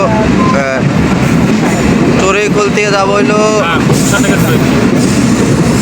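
A train runs steadily near Choruikhol, its continuous rumble and rattle carrying throughout while someone talks loudly over it.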